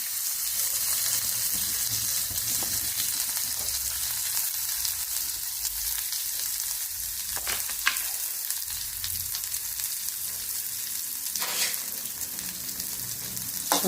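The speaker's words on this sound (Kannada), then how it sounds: "ಸಾಸಿವೆ ಚಟಪಟ ಅಂತ ಇದೆ. ಇವಾಗ ಜೀರಿಗೆ ಹಾಕ್ತೀನಿ, ಕರಿಬೇವು ಹಾಕ್ತೀನಿ, ಆಮೇಲೆ ಈರುಳ್ಳಿ ಹಾಕ್ತೀನಿ." Mustard seeds crackling in hot oil with cumin, curry leaves and onion added, a constant close hiss with scattered sharp pops and sputters, no voices.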